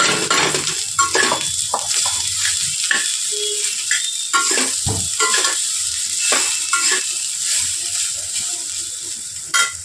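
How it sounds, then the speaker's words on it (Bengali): Washed flattened rice (chira) goes into a hot pan and is stirred, giving a soft sizzle broken by repeated scraping and clinking of a utensil against the pan, close by. "এবার এর মধ্যে দিয়ে দেবো ধুয়ে রাখা চিড়েগুলো।"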